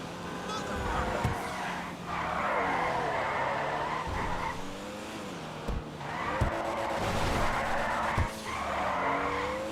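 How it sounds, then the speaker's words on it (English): A car in GTA Online drifts near cones on a hilly street, its tyres screeching in long repeated skids over a revving engine, loud and close, with a few thumps. "So I drift right next to the cones on the sidewalk."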